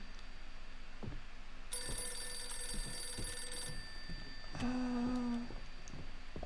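An old telephone bell rings inside a horror game house, one long electric ring followed by a shorter burst after a pause, under faint creaks and thumps.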